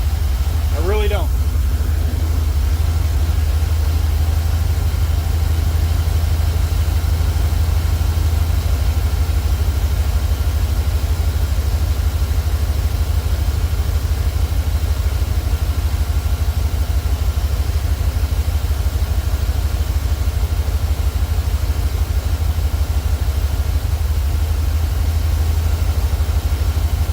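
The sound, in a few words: truck engine idling roughly without fuel pressure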